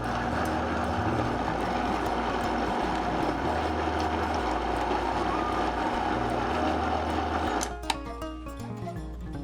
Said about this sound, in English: Just throw all of your mushrooms in the processor.